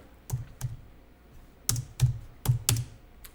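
Typing on a computer keyboard during a Korean accounting practice lesson: about seven sharp key presses in two bursts, an early pair then a quicker cluster of five, close and moderately loud, with no talk over them.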